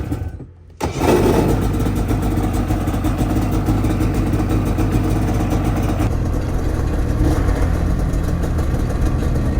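A Gen 5 Ski-Doo snowmobile engine starts and then runs loud and steady, with a rough, buzzing rattle throughout, not from the clutch side, and no voices.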